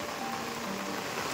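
Heavy rain falling in hilly farm country, a soft, steady hiss with no breaks, fairly faint and brief.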